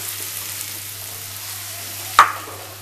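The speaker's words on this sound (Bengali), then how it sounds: "একটু ভাজা ভাজা করে নেব, তাতে আলুটা সেদ্ধও হয়ে যাবে আর এর সাথে ভাজাও হয়ে যাবে।" Small diced potato pieces fry in a pan, giving a steady, even sizzling hiss with a low background hum and one sharp clink of a utensil near the end.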